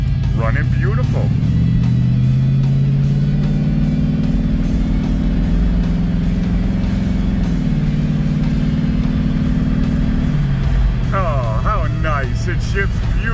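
A 1965 Ford Mustang with a small 289 V8, freshly repaired and out on a test drive, hums and rises steadily in engine pitch from inside the car, holding loud and continuous for the whole stretch.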